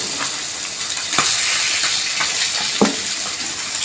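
Pieces of Bhola fish fry one by one in hot oil, a continuous bright sizzle with a few sharper crackles and spits as pieces are moved, with no voices over it.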